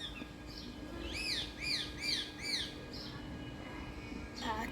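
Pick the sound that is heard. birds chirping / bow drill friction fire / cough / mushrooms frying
birds chirping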